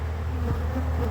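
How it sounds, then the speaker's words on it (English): Bees buzzing at an opened beehive during a honey harvest, a dense, steady close drone of many insects with a low hum throughout. "Quite a bit of bees."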